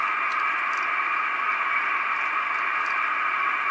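A data-mode radio signal on the 40 meter band through a homebrew receiver, a steady band of hiss and tones held at constant loudness for the whole stretch, with faint ticks above and no voices.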